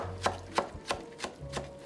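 A knife chops bell pepper on a board in a home kitchen, giving six evenly spaced crisp cuts in a steady rhythm, close and clear with no talk.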